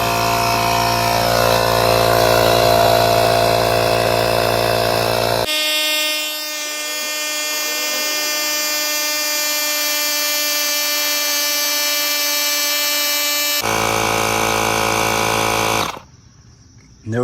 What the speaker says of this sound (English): pumping up 2 tires